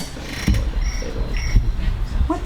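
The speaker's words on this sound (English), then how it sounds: "Crickets come with every iPhone." An iPhone cricket-chirp ringtone goes off in a workshop room, giving short, fairly loud bursts of insect-like chirping over a background of room noise and faint voices.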